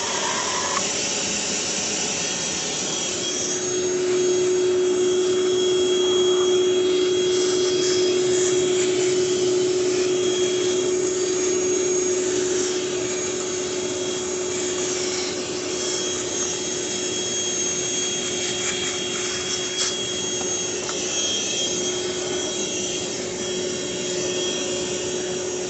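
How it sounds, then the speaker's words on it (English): A Ryobi 18V cordless one-gallon shop vac runs continuously with a steady whining motor hum and airy suction noise, close and loud throughout, no speech. "Not like a shop vac, it won't quite suck up a whole shop towel, but not trying to, right?"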